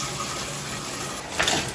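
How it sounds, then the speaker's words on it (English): Steady hiss of a shower running, an even, close wash of falling water that stays constant throughout, with a brief slight surge near the end. "so shower time"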